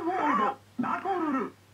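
A dog growls in the 3DO version of the fighting game Samurai Shodown: two close, loud, rough growls separated by a short gap, with no talking.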